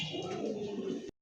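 Pigeons in a keeper's collection give a soft, low, sustained coo that stops abruptly after about a second.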